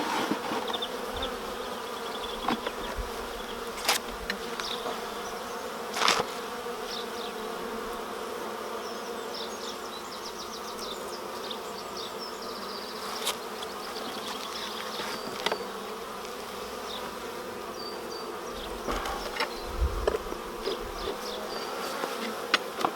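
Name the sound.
honeybees buzzing around an opened beehive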